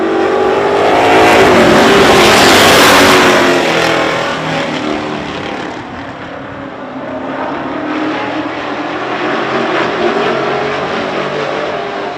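A field of race cars roaring to life out of corner 4 at the start of an oval race, a loud massed engine surge that swells and peaks early, then fades slightly as the pack passes and carries on at a steady drone.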